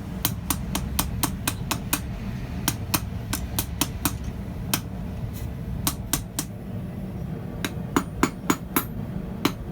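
A hammer strikes hot metal while a finial is freehand forged on an anvil, sharp ringing blows in quick rhythmic bursts with brief pauses, loud and close over a low background rumble.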